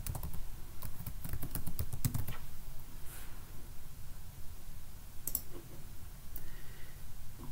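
Rapid keystrokes on a computer keyboard enter a username, a quick run of close clicks at first, then sparser taps over a steady low background hum.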